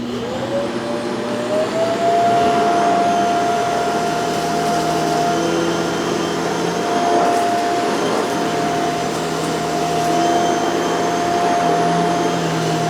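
A Shark CZ351 canister vacuum cleaner running loud and close, a steady motor whine holding a constant pitch throughout with a rough airflow roar beneath it and no talk.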